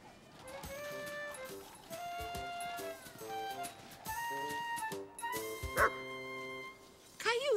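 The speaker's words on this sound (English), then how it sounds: "Caillou had never seen a dog pulling a sled before." A cartoon sled dog barks and yips a few times in short bursts over background music, with a voice talking in between.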